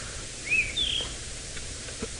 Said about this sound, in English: There's some scrub robins calling.